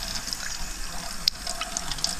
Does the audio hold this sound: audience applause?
no